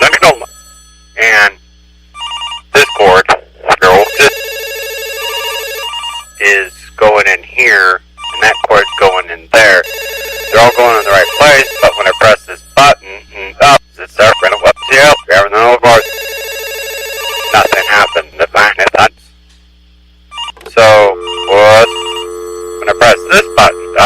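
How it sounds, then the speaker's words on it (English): A telephone rings in repeated loud bursts through a long stretch, with speech and other sounds breaking in between the rings. "Really have to say that I am a little upset about the phone ringing right now."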